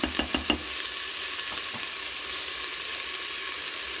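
Two red onions and a shallot sizzling as they begin to fry in a pan, with a few sharp crackling pops at the start and then a steady, even hiss, close and alone without talk.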